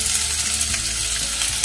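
Ivy gourd frying in a pan with a teaspoon of turmeric, a continuous close sizzle lasting under two seconds.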